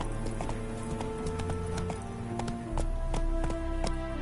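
Roach, the horse in The Witcher video game, trots with quick, regular hoof clip-clops on hard ground, close and clear, with a brief whinny and a heavier rumble near the end.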